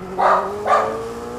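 Two sharp, close barks from a dog at the front door of a home, sounding clearly over the constant engine hum of a Ferrari Roma in F1 2022.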